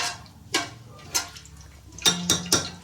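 Hot oil crackling in a pan as spices go in while biryani is being cooked, a handful of sharp, separate pops close by, spaced irregularly and clustered toward the end.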